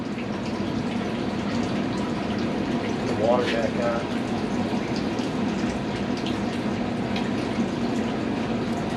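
Water rushing into a newly swapped water heater after the supply is turned back on, a steady, continuous hiss and flow with a brief squeak partway through, no pauses.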